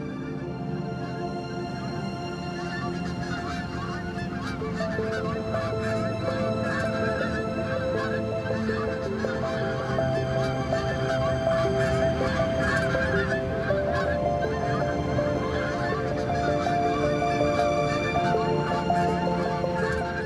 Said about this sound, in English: Among these travelers are wild geese.